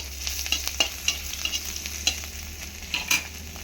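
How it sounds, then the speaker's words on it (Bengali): Crushed garlic and chillies sizzle and fry in a pan while a spoon stirs them, giving steady crackling with scattered sharp pops and scrapes, close and alone with no talking. "নাড়া দেবো।"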